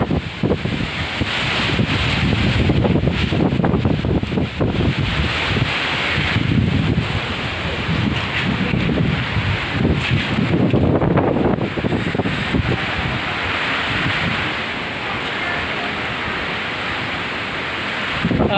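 Strong wind and heavy rain from Typhoon Ulysses in San Fernando, Laur, Nueva Ecija roar steadily as dense, loud noise, with gusts swelling and easing and no letup throughout.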